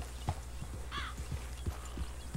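Horse hooves clip-clop in a steady walking rhythm in Red Dead Redemption, with a brief whinny partway through over a low ambient rumble.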